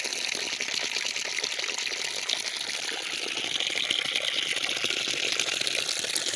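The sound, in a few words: splashing water on the face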